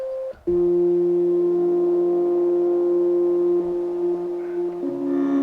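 A steady Matriarch synthesizer tone through a tiny 3U Eurorack-sized speaker, thin and boxy, holding a sustained pitch that shifts slightly near the end.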